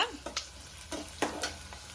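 Onions sautéing in a pan for a chicken gravy, a quiet low sizzle broken by several soft stirring scrapes and spoon knocks at irregular intervals, faint overall.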